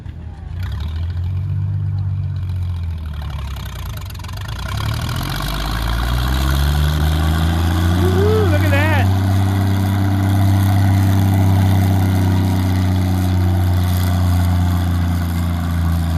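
A heavy yellow tractor engine idles at a tractor pull, then revs up and holds a loud, steady drone while pulling a full load of weights, with a short rising whine partway through.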